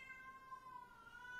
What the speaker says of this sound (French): si vous avez entendu mon chat, c'était magnifique